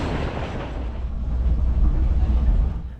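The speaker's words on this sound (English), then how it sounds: "the train runs in a deep gorge between the mountains and alongside the Urubamba River" A train rolls through a deep mountain gorge beside the Urubamba River in Peru's Sacred Valley, giving a steady, loud low rumble that swells slightly midway and stays fairly constant throughout, with no voices.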